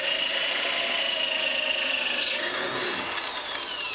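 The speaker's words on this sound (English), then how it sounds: "and I'll bore one end of this." A power drill with a 1/4 inch bit bores into wood held in a doweling jig, a steady close whirring grind that shifts pitch slightly as the bit cuts deeper, with no talking.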